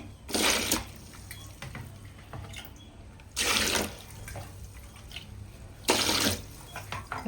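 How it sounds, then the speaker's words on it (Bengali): Cut fish is rinsed under running tap water in a basin, three distinct bursts of splashing water separated by quieter handling and faint trickling, with no talking. "এবার মাছটা ধুয়ে নিই।"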